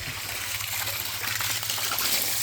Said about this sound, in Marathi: हे काढल्यानंतर त्यातलं हे पाणी असं पूर्ण बाहेर निघतं